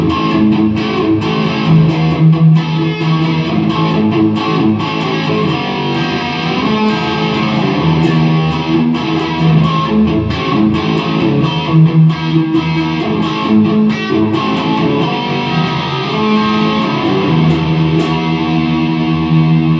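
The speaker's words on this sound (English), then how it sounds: "So that's our distortion tone." A heavily distorted electric guitar plays continuously, thick and saturated, with chords and notes ringing out loud and close for the whole stretch.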